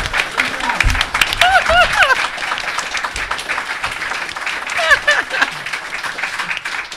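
Live audience applause at a comedy circus-style stage show, a steady wash of clapping mixed with crowd murmur and some shouting voices over it.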